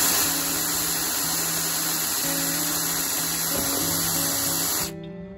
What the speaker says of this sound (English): And then you're gonna drill the hole.